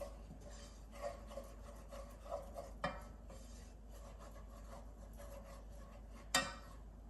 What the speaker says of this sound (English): You have to keep stirring it so it doesn't get lumpy.